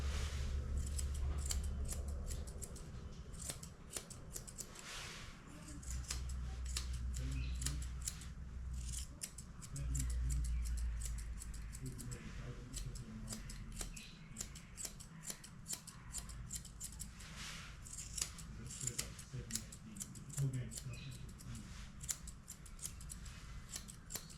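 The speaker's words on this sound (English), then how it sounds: "tuck the scissors in past the eye, watch your lashes" Scissors snip steadily through a Bichon Frise's fur during grooming, giving quick, close, quiet metallic cuts in an irregular rhythm over a faint low hum.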